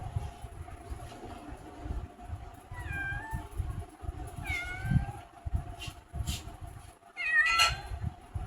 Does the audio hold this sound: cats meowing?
yes